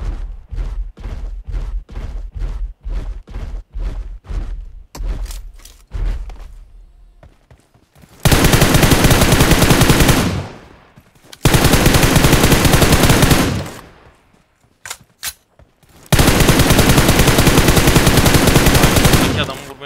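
Weapons fire in PUBG Mobile: first a rhythmic string of single loud shots, then long dense bursts of sustained automatic fire broken by short pauses, very close and loud.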